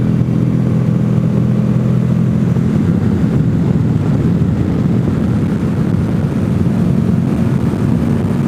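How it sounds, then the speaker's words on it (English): A 2014 Honda VFR Deluxe motorcycle cruises with two riders aboard, its engine a loud steady low drone blended with heavy rushing wind noise, unbroken from start to end. "But we're doing this right now on a 2014 Honda VFR Deluxe."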